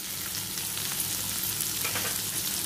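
Water chestnut vegetable with salt and sugar stir-fries in a pan, giving a steady close sizzle with soft scraping stirs throughout and no talking.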